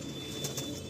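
Male Malwai pigeons coo faintly in a loft, with a couple of soft rustles or wing movements among low, murmuring calls under a steady background hum.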